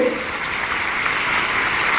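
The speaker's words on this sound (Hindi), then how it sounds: "एक बार जोरदार तालियां इन लोगों के लिए।" A crowd at a youth empowerment seminar in Delhi claps steadily, a dense wash of applause that holds at an even level throughout.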